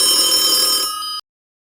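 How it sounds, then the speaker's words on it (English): A loud, close telephone bell rings in a quick continuous trill, then stops abruptly and leaves a short ringing decay before silence. "Oh, the phone is ringing."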